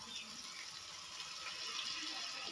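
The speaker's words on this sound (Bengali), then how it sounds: "মশলাটাকে কষানোর জন্য দিয়ে দেবো খুব সামান্য পরিমাণে জল।" A small amount of water pours into a spice mix of ground coriander and cumin during cooking for a cauliflower and egg dish, heard as a steady soft gush of liquid with no voices.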